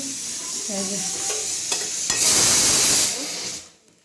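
Egg toast fries in a pan, a steady close sizzle with faint stirring and scraping that swells louder midway and then fades out at the end.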